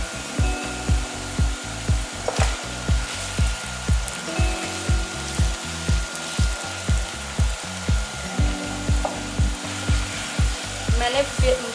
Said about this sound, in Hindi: अब 10 मिनट तक मैं चिकन को भून लेती हूँ।